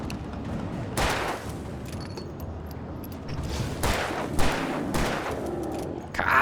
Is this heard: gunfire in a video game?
yes